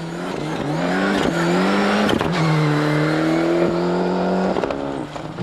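Rally car racing flat out on a stage, its engine loud and close, revving hard through rising and falling gear pulls with abrupt shifts and a brief dip near the end, no voices.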